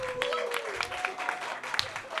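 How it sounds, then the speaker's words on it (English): An audience at a roast battle comedy show claps briefly under a speaking voice, with scattered hand claps in a moderate, slightly distant crowd. "Start clapping right now."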